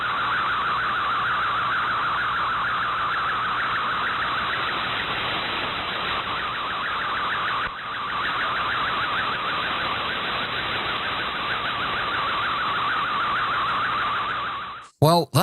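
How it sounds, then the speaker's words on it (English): An MFSK64 radiogram transmission sending an image: a continuous warbling, buzzy digital tone over hiss, steady and loud for about fifteen seconds before cutting off abruptly. "this is what a radiogram transmission sounds like"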